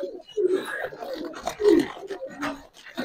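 Round-headed pigeons coo close up, a couple of low rolling calls, with someone speaking over and between them.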